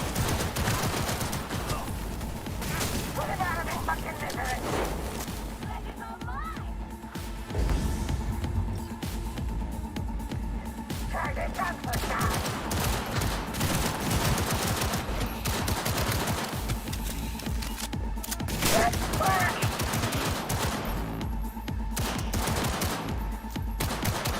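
Cyberpunk 2077 gameplay fills with rapid bursts of gunfire, repeated sharp shots and volleys crackling throughout, loud and continuous with brief lulls, with no speech.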